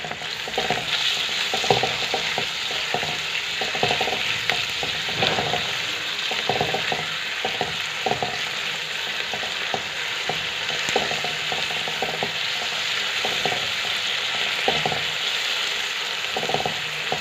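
Garlic and tomatoes frying in a pan for fish curry, a continuous close sizzle broken by repeated scraping stirs of a spatula, no voices.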